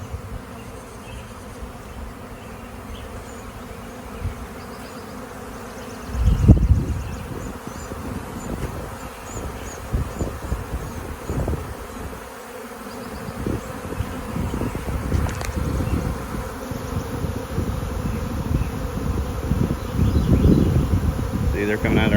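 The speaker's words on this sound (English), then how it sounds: "That hive right there is swarming." A swarm of honey bees pouring out of a hive fills the air with a dense, continuous buzzing drone that swells louder at times and stays close throughout.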